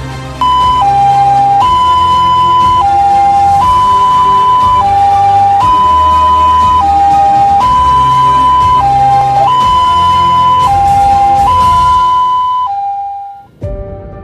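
Loud wailing two-tone siren from a hospital emergency ambulance of Rumah Sakit Wahidin, alternating pitch steadily for several cycles before cutting off abruptly near the end.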